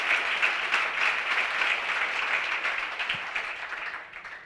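An audience at an awards ceremony gives a steady round of applause, close and sustained for several seconds before it tapers off at the end.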